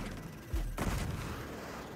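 Enemy gunfire in the video game Marvel's Spider-Man 2, a sharp burst of shots around mid-clip with a booming low thump, over steady game background.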